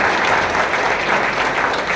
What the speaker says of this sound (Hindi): तालियां इन सबके लिए बजा दीजिए